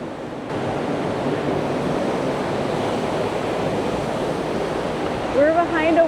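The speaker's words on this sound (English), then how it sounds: "We're behind a waterfall right now." Waterfall roaring steadily from just behind the falling water, a dense broadband rush at constant strength, with a brief voice rising over it near the end.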